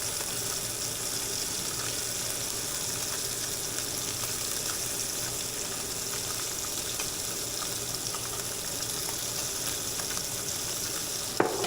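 Bluefish fries in butter in a pan, giving an even, steady close-up sizzle with a bright hiss that runs unbroken throughout, with a small clack at the end and no talking.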